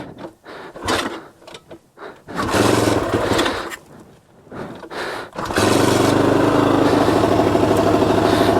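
Carbureted engine of an Ohvale GP-0 190 minimoto with electric starter, cranking in short bursts before catching and settling into a loud, steady, vibrating idle with revs held high.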